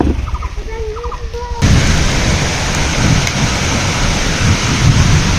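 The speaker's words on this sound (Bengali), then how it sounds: "বাপরে, এ তো ভালোই বৃষ্টি শুরু হয়ে গেল।" Heavy rain bursts in suddenly and keeps up a loud, dense, steady roar. A few short bird calls come just before it. No clear thunder stands out.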